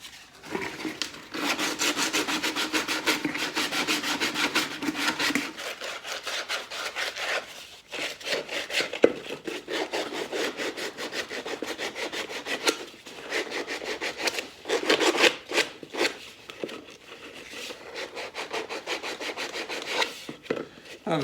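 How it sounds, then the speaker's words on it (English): Wood pieces cut for a dust collector cyclone cone are sanded along ragged sawn edges, a continuous close rasping rub in long rhythmic strokes with brief pauses, steady and fairly loud, no speech. "we'll give that a little bit of a sand"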